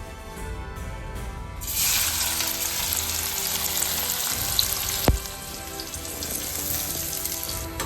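Potatoes and cauliflower hit a hot pan and sizzle loudly and steadily, with a sharp clink of a utensil midway and faint kitchen noise underneath.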